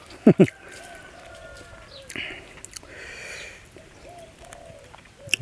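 Bird cooing outdoors in a rural Thai setting: a few soft, repeated dove-like calls spaced across the clip, fairly faint, with a couple of sharp louder knocks near the start and light background noise.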